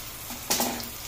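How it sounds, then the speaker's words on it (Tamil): Chilies sautéing in a pan of oil for a spicy chicken gravy, a soft steady sizzle that swells suddenly halfway through as more goes in, close and alone without talk. "நல்லா வதங்கட்டும்."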